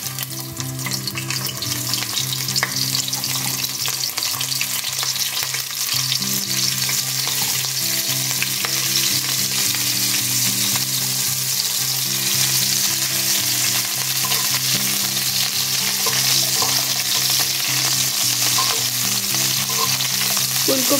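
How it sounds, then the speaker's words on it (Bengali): Cauliflower pieces fry in hot oil, a loud, continuous, close sizzle with dense crackling that holds steady throughout, under a low mechanical hum and with no talking. "আমি এবার আস্তে আস্তে ফুলকপিগুলো তেলে ছেড়ে দিচ্ছি।"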